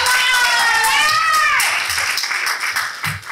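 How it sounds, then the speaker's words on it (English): Guests at a women's high-coffee event in Randburg, South Africa clap in a lively burst, with a sustained high vocal cry over the start before the clapping thins into scattered claps. "And a round of applause for that"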